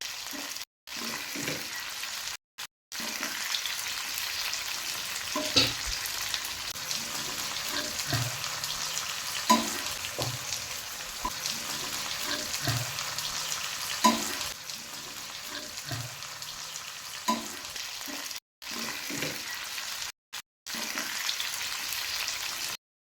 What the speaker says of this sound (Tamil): மீன் எவ்வளோ அழகாக ஃப்ரை ஆகிருக்குது